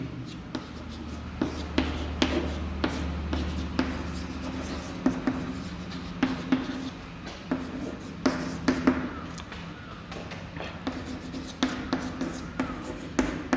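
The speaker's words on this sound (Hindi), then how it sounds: "तो मैं यहाँ पे लिख देता हूँ" Writing on a board during a classroom grammar lesson, a series of soft taps and scratchy strokes at an uneven pace, close and fairly quiet with no speech over it.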